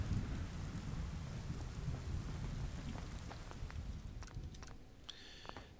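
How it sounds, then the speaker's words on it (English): Steady rain pours in the video game Fallout: London, a dense hiss with a low thunder rumble underneath, easing slightly near the end where a few faint clicks and tones appear. "Alright, still raining,"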